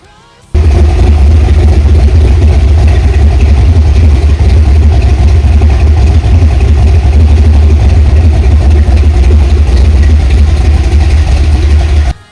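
A small-tire monster machine engine, part of a drag-racing build, fires up abruptly and then runs steadily at a loud, rough idle, a constant low rumble close by with no voices.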